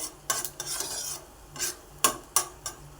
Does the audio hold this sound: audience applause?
no